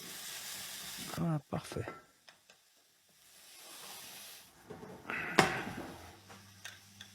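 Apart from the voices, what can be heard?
onions and lardons frying, being stirred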